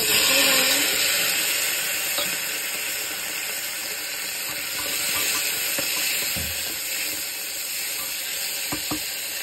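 Capsicum sizzling in hot oil for a soya bean and chana pulao, a continuous dense hiss with faint stirring clicks throughout, fairly loud and close, without talking.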